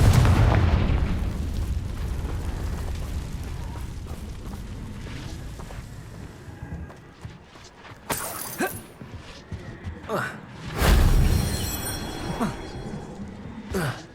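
Fire spell bursts explode in Hogwarts Legacy's Goblin Mine, heavy booming blasts with shattering crackle around 8 and 11 seconds, set against a dense rumbling game soundscape.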